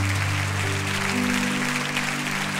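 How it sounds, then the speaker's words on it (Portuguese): A church congregation applauds loudly and steadily for the Lord, a dense wash of clapping with sustained keyboard tones beneath it and no talking. "aplauda ao Senhor bem forte"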